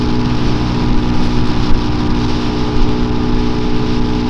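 A 2024 Mutt DRK 250 motorcycle cruises at 65 mph, its engine giving a loud, steady, buzzing drone mixed with rushing wind noise, constant throughout with no talking.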